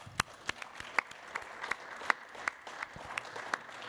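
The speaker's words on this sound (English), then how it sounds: "You all deserve a round of applause" An audience honoring cancer survivors claps sparsely, each sharp clap distinct in a steady, fairly quick rhythm, fairly faint and at some distance, with no voices.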